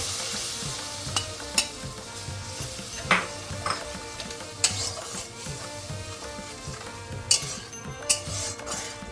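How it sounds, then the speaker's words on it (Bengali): A Bengali spice mix frying in a pan while being stirred, with a soft continuous sizzle broken by repeated sharp clinks and scrapes of a metal spatula against the pan. "পাঁচ মিনিট মশলাটাকে আমি একটু ভালো করে কষিয়ে নিচ্ছি"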